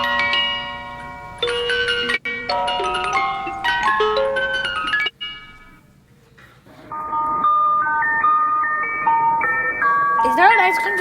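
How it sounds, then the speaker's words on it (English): An ice cream truck jingle playing a tinny, bell-like electronic melody in a repeating pattern with a brief break midway, moderately loud and heard from indoors. "Is there an ice cream truck on my house?"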